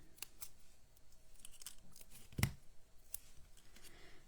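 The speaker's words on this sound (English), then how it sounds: "I'm just snipping" Scissors snip paper while a Christmas joy card is being made, with a few quiet, separate cuts and one sharper, louder snip near the middle. No one speaks.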